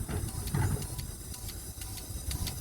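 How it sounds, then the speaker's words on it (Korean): Faint, close ticking of a fuel injector in cylinder 3 with a soft hiss of gas spraying inside the throttle body, a regular click pattern over a quiet engine-bay background. "스로틀 바디 안에서 인젝터 작동음과 동시에 가스가 분사되는 소리가 납니다"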